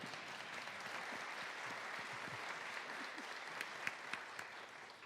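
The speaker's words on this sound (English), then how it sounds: "you can clap for them." An audience applauds during the Minority Leader Caldwell's opening day speech, a soft, distant wash of clapping with a few sharper individual claps standing out near the end.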